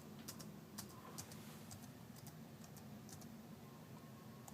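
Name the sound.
typing on a laptop computer keyboard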